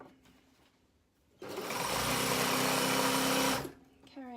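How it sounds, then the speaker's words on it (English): A sewing machine stitches up the inside leg seam of a garment in one steady two-second run, close and clear, with soft talk-like sounds just before and after. "I'm just going to sew up a little way on this inside leg"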